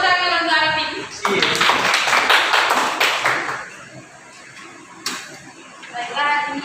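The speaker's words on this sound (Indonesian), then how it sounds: "tepuk tangan untuk Arabin" A class claps for a student during a practice Islamic jurisprudence lesson, a short loud burst of many hands clapping at close range that quickly tapers off, with a teacher's voice speaking over it.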